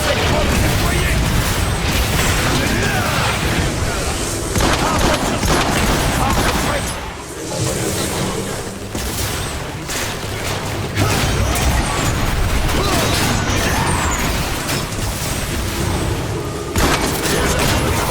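Gunfire in a Transformers video game comes as loud, dense bursts and booms mixed with mechanical game effects, with voices heard among them.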